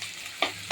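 Onions frying in a pan give a brief, fairly quiet sizzle, with two short louder scrapes of stirring.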